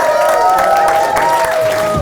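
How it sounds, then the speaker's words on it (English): An audience claps and cheers to welcome keynote speaker Andrew Priestley at a business summit, a dense wash of applause under sustained musical tones and some voices. "give him a round of applause"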